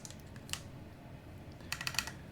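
Faint, sparse keystrokes on a keyboard fitted with SA keycaps: a lone tap early on, then a quick cluster of several clacks near the end, close by and otherwise quiet.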